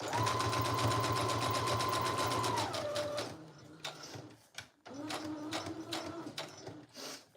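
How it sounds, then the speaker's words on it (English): Sewing machine stitching around a fabric tag, a steady close rhythmic chatter of the needle that slows and stops, then a second shorter run of stitching after a brief pause with small handling clicks. "now I'm just gonna go ahead and finish off sewing around this entire tag"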